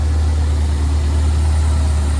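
A carbureted engine idles with a steady, even low rumble that holds without change throughout, close and fairly loud, with no other sounds.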